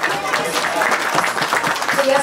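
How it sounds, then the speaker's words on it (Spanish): Guests at a quinceañera party applaud the cake godfather, a dense, continuous burst of clapping and crowd noise with voices mixed in throughout. "Un fuerte aplauso para él"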